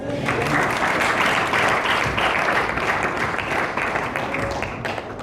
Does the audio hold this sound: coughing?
no